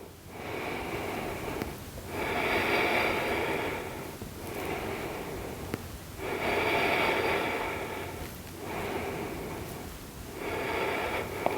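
Slow, deep breathing during a postnatal yoga pose: long, airy inhales and exhales alternate in a steady rhythm of about four seconds each. The breaths are close and soft, with no talking.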